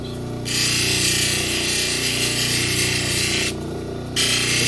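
A grinding wheel bevels the edge of a stone cabochon, a steady motor hum with a loud rasping grind as the stone is pressed on, briefly easing off and returning near the end.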